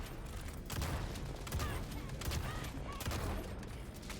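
Rapid automatic weapon fire in the Helldivers 2 shooter game, a rattling fusillade of bursts crackling over a dense mid-level battle din, with a few fainter pops scattered between.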